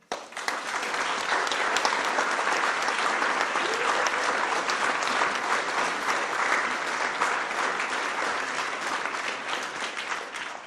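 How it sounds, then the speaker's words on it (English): Sustained applause from a large audience at a conference closing ceremony, dense steady clapping that holds evenly for about ten seconds, close and full. "So let's applaud them all, please."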